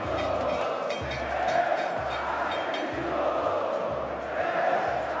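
Grêmio football fans chant in unison at the 2016 Copa do Brasil trophy ceremony, a dense, loud stadium crowd with steady rhythmic drumbeats pulsing underneath throughout.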